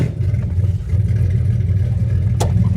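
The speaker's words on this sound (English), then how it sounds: "it still sounds like a race car because there's no exhaust on it" A mini truck's engine with no exhaust fitted, idling loud and close with a raspy, rumbling drone through a short clip.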